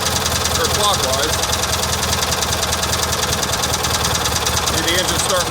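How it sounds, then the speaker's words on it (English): A Kohler Magnum M18 engine on a Cub Cadet 1882 runs loud and close with a rough, knocking idle that starts to falter and die while someone talks over it. "see the engine's starting to die"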